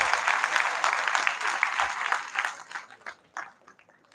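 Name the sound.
audience applause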